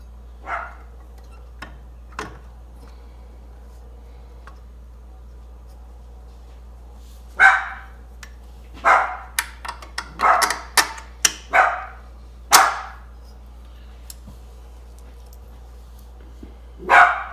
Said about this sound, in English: He don't even have a clue what he's barking at.